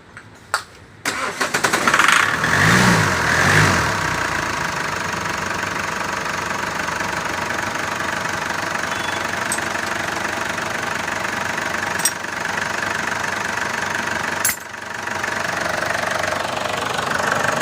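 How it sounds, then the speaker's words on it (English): A Ford Endeavour engine cranks, catches and settles into a steady idle, with the starter sound giving way to a loud, close, continuous idle broken by a couple of small clicks. "So as you can see, with when I give a little petrol, the vehicle starts right up."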